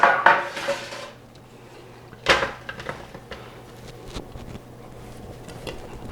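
Tomatoes set onto a metal roasting sheet in a home kitchen, a few sharp metallic clatters and clinks, with a bright knock early on and another near the middle, then quieter handling noises and a low hum.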